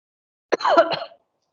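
A single short, harsh cough close by, over in under a second, surrounded by silence.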